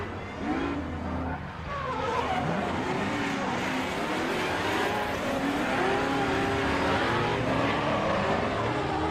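Race car engines roar continuously at high pitch at the Croix-en-Ternois circuit, layered cars whining past together, steady and loud with no pauses.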